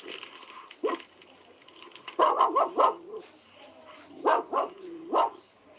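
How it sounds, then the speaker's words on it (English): Dogs bark repeatedly in short bursts and clusters, fairly close and loud, with yips between and no talking over them. "our dogs are barking a lot because they can hear the other sounds of the dogs"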